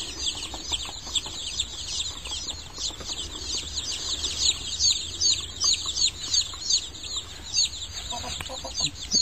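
Young chicks cheep in a rapid, dense chorus of high chirps at a feeder, with faint pecking taps underneath, close and steady throughout.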